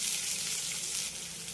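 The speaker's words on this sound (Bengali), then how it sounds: "এবার আমি পেঁয়াজ রসুন আর আদাটাকে হালকা করে একটু ভেজে নেব" Onion, garlic and ginger fry lightly in a pan with a steady, close sizzle that crackles evenly for the whole moment, with no voices over it.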